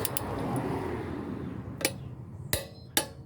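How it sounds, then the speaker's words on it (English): A torque wrench set to 80 foot-pounds tightens lug nuts on a 2014 Honda Vezel RU3 Hybrid, giving three sharp, distinct clicks spaced under a second apart over a steady background hiss. "80 foot-pounds, we're listening for the click."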